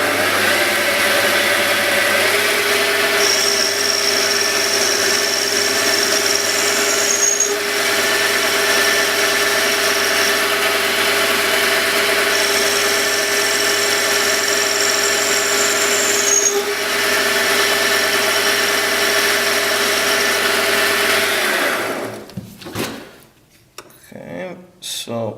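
Lathe turning a bicycle rear axle, taking a light cut of about a tenth of a millimetre: a steady mechanical whine with tonal ringing that runs for about twenty seconds, then cuts off into brief clatter as the machine stops.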